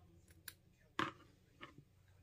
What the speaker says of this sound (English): I'm going to have to cut some of my seam.